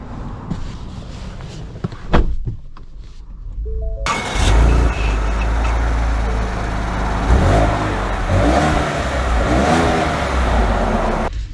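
A 2024 Ford Edge ST accelerates on the road after some quiet cabin clicks and handling noises, then a sustained engine and road roar fills the interior and continues steadily until the end.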